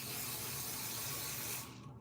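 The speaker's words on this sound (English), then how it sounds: "I put hairspray in my hair" Hairspray hisses from an aerosol can onto hair in one steady, close burst lasting well over a second, then cuts off abruptly.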